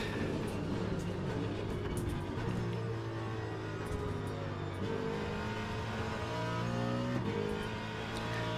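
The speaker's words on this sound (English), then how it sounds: "the engine sounds after this update, or maybe just this car" A Ford Mustang LMGT3 race car engine from the Le Mans Ultimate racing game, at Sebring, drones steadily and loudly, its pitch rising and falling with shifts while other cars roar close behind; no voice is heard.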